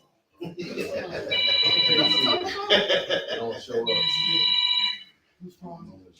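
A telephone rings in two long electronic bursts over loud, overlapping talk and laughter in a crowded room at a grand opening gathering.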